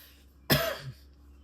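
A single harsh cough close to the mic, followed by a brief throaty rasp, then quiet.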